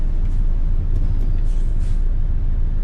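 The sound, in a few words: Peterbilt 351 truck engine in the video game American Truck Simulator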